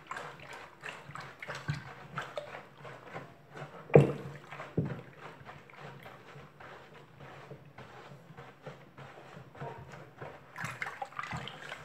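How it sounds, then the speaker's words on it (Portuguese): Half a litre of cooking oil is poured into a mix of water and fuel alcohol to make liquid bleach soap, giving a soft, continuous sloshing pour with a few louder splashes and clunks, fairly quiet and close. "E colocamos 1 litro de óleo. Perdão, gente, meio litro de óleo."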